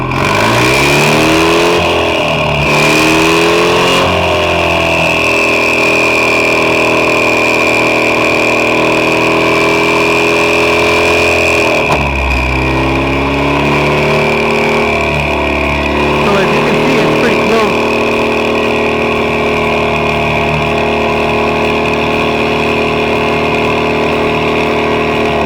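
A Ford EcoBoost engine revved to about 2,500 RPM: a loud, continuous drone that climbs and eases off over a sustained hum, heard close up with no clear talking over it.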